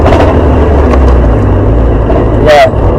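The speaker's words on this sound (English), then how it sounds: "it sounds like I need to put a wheel bearing on the back" A 1.6 Ford Fiesta Zetec-S with a worn rear wheel bearing drives along, its engine and road noise forming a loud, steady low drone heard from inside the car, with a brief bright squeal near the end.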